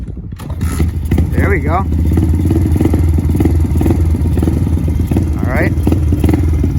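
A kick-started dirt bike engine fitted with a new carburetor idles close by with a steady, loud low rumble and clatter, and people talk over it.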